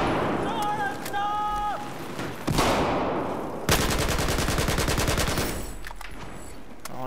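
Battlefield 4 combat with bursts of automatic gunfire and grenade blasts, a sharp impact near the middle and a dense rapid burst in the second half, over constant battle noise.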